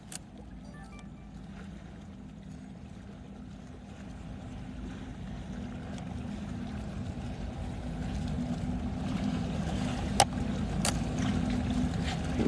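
Powerboats out on open water during a Bahamas poker run, a steady engine drone and wash that slowly grows louder, with a couple of brief sharp clicks near the end.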